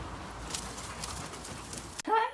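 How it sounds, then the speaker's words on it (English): A mother bird gives a short, clear chirp near the end after a stretch of quiet, hissy background, fairly close and alone. "now the mother's over there, steady chirping."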